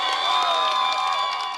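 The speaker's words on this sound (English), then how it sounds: "There were lots of cheering, even jumping Greens this evening too." A crowd cheers and shouts loudly and continuously at a UK local election count, with high whoops and excited voices sustained throughout the short stretch.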